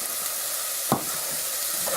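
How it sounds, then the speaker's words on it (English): Diced potato sautéing in a pan, a steady bright sizzle with a brief stir-scrape in the middle, close and alone. "So now it is sauteing."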